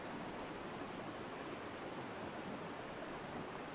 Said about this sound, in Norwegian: Ja, det er Pipo elva.